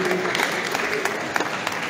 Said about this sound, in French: On va applaudir pour lui aussi, s'il vous plaît, mesdames et messieurs.